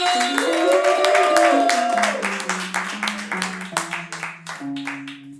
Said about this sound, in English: Applause going for my girl, Tracey Carnazzo